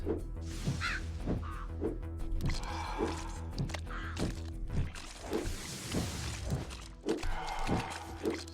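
Crows caw again and again in the action video game Death Must Die, their harsh calls layered over pulsing game music and thudding combat hits.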